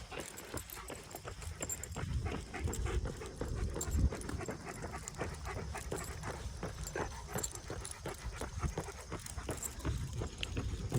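Dogs panting steadily while out running miles with a person, with rhythmic footfalls pattering throughout, close and fairly loud over outdoor ambience.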